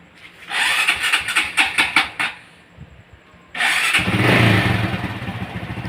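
Motorcycle starting after its carburetor was cleaned: a series of sharp cranking pulses, a short pause, then the engine catches and settles into a steady loud idle up close.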